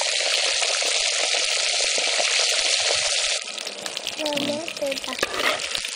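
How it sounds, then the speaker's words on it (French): Pieces of soy tofu, first soaked in salted water, frying in hot oil in Benin, a loud steady sizzle that drops to a lighter crackle and bubbling as it is stirred. "Et maintenant on procède à la friture."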